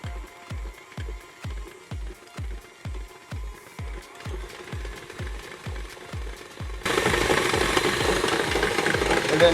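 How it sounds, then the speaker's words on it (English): An electric hand mixer whips shea butter at low speed, giving a steady pulsing motor drone with rhythmic thumps, then grows louder and denser near the end as the speed rises. "we're gonna start whipping it, and you start it off on a low speed"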